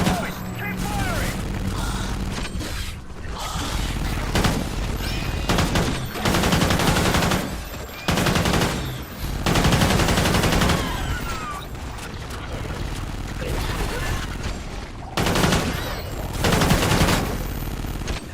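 Gunfire in the video game Call of Duty: Ghosts Extinction, with repeated loud bursts of automatic fire and mechanical clatter, broken by short gaps, while a voice talks over parts of it.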